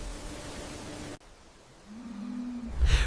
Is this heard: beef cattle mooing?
yes